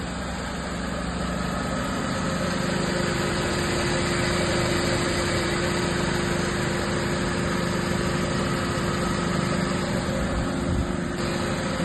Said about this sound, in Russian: Вот так работает движок.